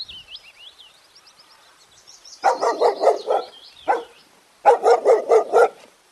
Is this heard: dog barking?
yes